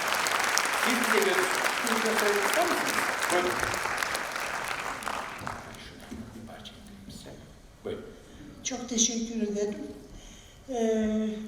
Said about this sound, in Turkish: Bir alkışlarınızla Sayın Sivin Okya